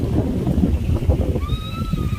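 Strong gusty wind in Puerto Rico roars and buffets the microphone in a steady low rumble, with a thin high whistle rising near the end.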